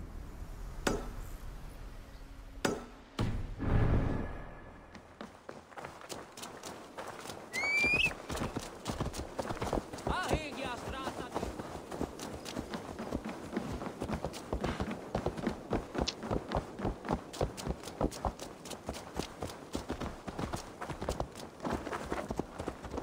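A horse's hooves clatter in a rapid, steady gallop rhythm in the video game Assassin's Creed Valhalla, fairly close, following a few brief knocks and a low whoosh at the start.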